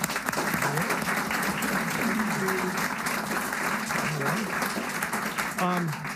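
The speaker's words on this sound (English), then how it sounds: "let's give Steve a round of applause for this" A crowd gives a round of applause, dense clapping that stays loud and steady across the stretch, with some voices talking underneath.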